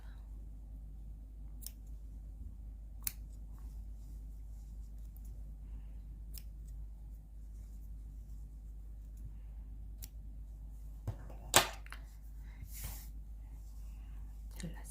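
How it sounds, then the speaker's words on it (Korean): Scissors trim leftover yarn from a crocheted dish scrubby, giving a few faint, sparse snips in a quiet room, with one sharper, louder cut near the end. "남아있는 짜투리 실은 전부 다 잘라주세요."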